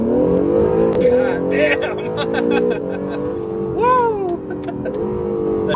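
An Acura NSX engine revs hard while dealer service advisors take it on a joyride, with strong rising and falling engine tones close by and people shouting and talking over it.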